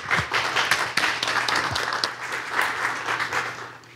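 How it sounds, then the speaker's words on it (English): Warm applause from an audience at the Nantucket Lightship Basket Museum, a full steady patter of many hands that fades slightly toward the end. "Please join me in giving a warm round of applause to Mary Bergman."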